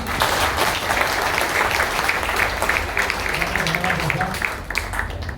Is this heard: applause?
yes